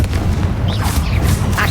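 Confringo explosive spell blast in the video game Hogwarts Legacy, a loud, sustained rumbling boom with crackling bursts over a low roar, alone without speech.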